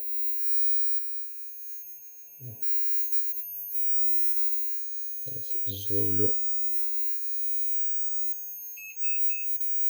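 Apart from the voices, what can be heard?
electrical squeal from wire touching transformer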